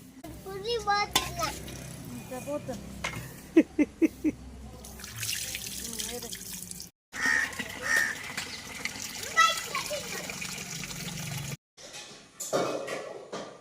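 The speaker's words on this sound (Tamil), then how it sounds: "இப்போ வந்து தண்ணி ஊற்றுறாரு" Water poured out while preparing lake fish for frying and fish curry, splashing and trickling with clatter and voices in the background, then pausing and starting again.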